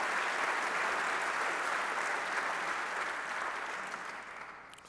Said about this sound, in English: let's give Michael and Downtown Partnership a round of applause